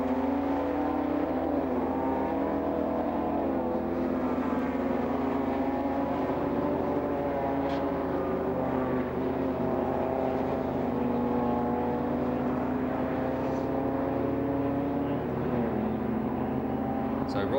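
BMW race cars at Lydden Hill circuit drone past with sustained engine notes rising and falling as they jostle for position, heard at a distance under continuous commentary.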